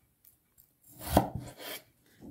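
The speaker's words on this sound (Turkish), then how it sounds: "Dostlar küp küp doğrayacağım." A knife cuts potatoes into cubes on a board, a few faint soft chops and scrapes with one firmer thud in the middle, close and quiet with no talking.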